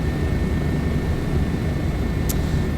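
A Bo 105 helicopter in Microsoft Flight Simulator 2024 gives a steady, loud engine and rotor drone that holds unbroken throughout.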